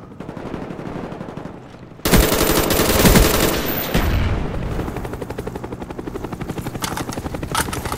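A Cobra attack helicopter in Call of Duty Black Ops multiplayer roars in with a loud rotor thrum as its machine gun bursts rattle, then the heavy rotor drone continues steadily.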